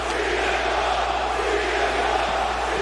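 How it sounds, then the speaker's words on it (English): Wrestling arena crowd at a Backlash event keeps up a loud, unbroken chant, a dense steady roar of many voices with no break and no commentary over it. "This crowd, unrelenting chants."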